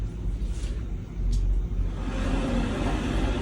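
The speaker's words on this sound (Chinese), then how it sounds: "这个车声再多一点" An added car traffic sound effect gives a steady low rumble of road vehicles with a faint hiss of passing cars, which grows slightly fuller after the first second.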